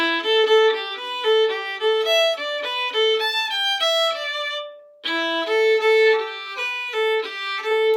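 A solo fiddle plays a quick, lively run of bowed notes from an Irish reel, Green Fields of Glentown, pausing briefly before the phrase resumes; no talking.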